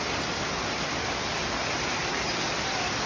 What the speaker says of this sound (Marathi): मस्त पाऊस पडतो